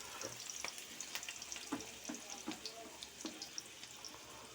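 Sliced onions hit hot oil and fry for a chicken curry, a continuous crackling sizzle punctuated by sharp clinks and scrapes of a utensil in the pan, close by and without talk.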